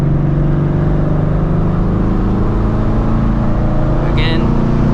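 A manual-transmission car cruises with a steady, loud low engine and exhaust drone and road rumble throughout, unbroken by gear changes, with a brief faint chirp near the end.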